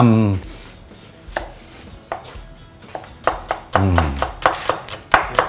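Small Thai garlic cloves pounded in a mortar, a series of sharp, fairly close thuds that start sparse and then come in quicker bursts, with no talking.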